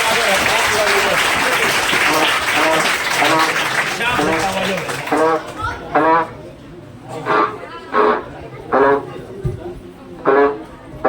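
Dense applause from an audience at a school farewell and honour ceremony fills the first five seconds, then thins out as a voice speaks in short bursts with scattered claps beneath.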